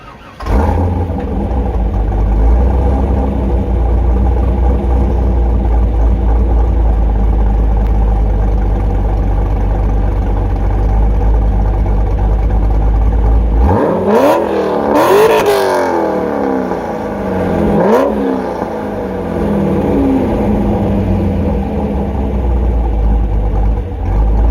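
A Corvette C5 engine idles with a deep steady rumble, then revs sharply several times in quick bursts before settling back to a loud, rumbling idle.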